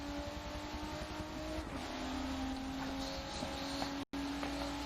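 A race car engine drones steadily in a sim racing game at Sebring, a continuous mid-volume hum with a brief dropout near the end, heard without talk.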